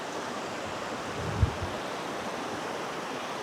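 A river in Remutaka Forest Park, New Zealand, rushes steadily near a forest campsite, a constant broad hiss of flowing water with one brief soft thump partway through.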